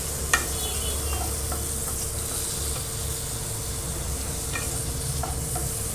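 Paneer sautés in a pan for paneer do pyaza, a steady close sizzle with faint clicks of stirring throughout.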